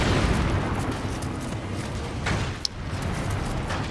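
A dense, sustained rumble of cannon blasts in the samurai action game Nioh, set at the Sekigahara battle, loud and close throughout, with a small sharp pop near the end.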